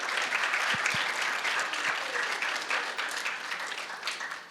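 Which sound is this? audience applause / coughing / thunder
audience applause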